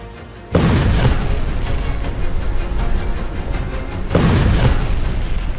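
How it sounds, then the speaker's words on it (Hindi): Two heavy explosions in southern Lebanon boom loudly, the first rumbling on for several seconds before a second powerful blast hits. "धमाका नंबर 2"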